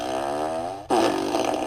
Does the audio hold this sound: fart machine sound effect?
yes